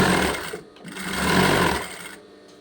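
A sewing machine stitching the cuff of a dress, a steady fast mechanical whirr that eases briefly, then rises again before stopping, close and fairly loud with no talking.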